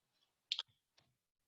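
Keys on a computer keyboard are typed in a few quiet, close clicks, a brief cluster of taps followed by one softer keystroke in an otherwise silent room.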